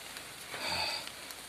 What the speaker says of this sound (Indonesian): Hujan sudah mulai turun.